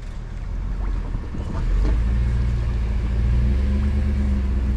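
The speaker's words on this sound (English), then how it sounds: "Let's get that truck in the water." A truck engine revs while backing a trailer down into the water, a low, steady rumble that swells and grows louder partway through, with a faint wash of wind and water behind it.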